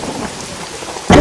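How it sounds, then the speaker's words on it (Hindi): Steady rain falls during the rainy season, a soft hiss of drops on surfaces, then a loud thunderclap bursts in near the end, heavy and close, with no voices. "बारिश के दिन चालू हो गए थे।"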